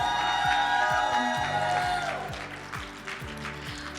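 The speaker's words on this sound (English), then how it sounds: "Please help me welcome, with a huge round of applause, Dr. Marcea." An audience at a 2025 panel discussion event applauds and cheers to welcome a panelist, with loud sustained voices and whoops that gradually fade over a few seconds.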